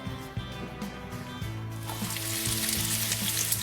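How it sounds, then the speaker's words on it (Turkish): Chopped onions hit a hot pan on the stove and start frying, a loud, steady sizzle that builds and fills the clip after a few thumps and stirring sounds. "Soğanlar gitsin ocağıma."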